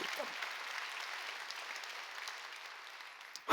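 A church congregation during Sunday worship applauds in a steady, moderately distant wash of clapping that holds evenly, with a brief louder burst at the very end.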